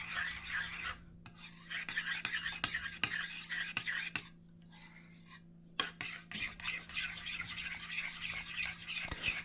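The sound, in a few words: mixing marinade with Tabasco-style hot sauce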